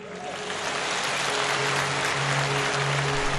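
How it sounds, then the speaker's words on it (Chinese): A seated audience applauds steadily after a Kinmen county magistrate's cross-strait speech at a forum, dense broadband clapping holding at an even level throughout with a low steady hum beneath. "让台下政协主席汪洋也鼓掌叫好"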